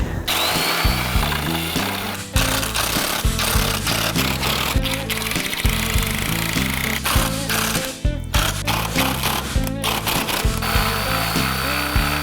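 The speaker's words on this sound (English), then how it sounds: "you're gonna wanna kinda angle slightly down as you drill out the back." A power drill whirs loudly and continuously up close, its motor pitch wavering as it bores holes in a Ford Ranger Raptor grille, pausing briefly a couple of times.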